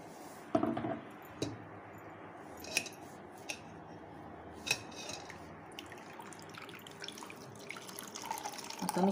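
Thin liquid drips and splashes as grated coconut is squeezed by hand to extract milk for solkadhi, with faint irregular trickles, soft clicks and handling noises close by.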